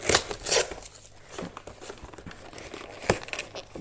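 Cardboard packaging of a Pokémon Premium Collection box crinkles and crunches as it is forced open, with bursts of crumpling and short tearing rips spread across a few seconds, close and fairly quiet.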